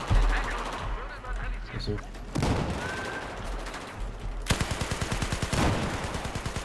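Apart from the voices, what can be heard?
gunfire in the video game Battlefield 4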